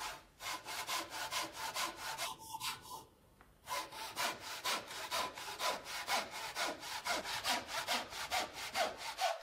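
A double-edged Japanese-style pull saw cuts through wood in steady, even back-and-forth strokes, close and loud, with one brief pause partway through before the rhythmic rasping resumes.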